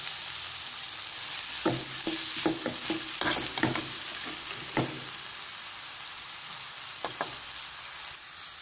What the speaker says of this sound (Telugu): ఇప్పుడు మనం నూడిల్స్ యాడ్ చేసాం కదా, వీటిని మనం బాగా టాస్ చేసుకుందాం.